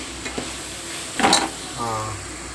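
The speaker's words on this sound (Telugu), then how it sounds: "మొత్తం అంతా కలిసేలాగా తిప్పుకోవాలి" Onions frying in a pan for chicken curry are stirred with a spoon, giving a soft ongoing sizzle and a brief louder scrape and clatter midway, with a low hum underneath.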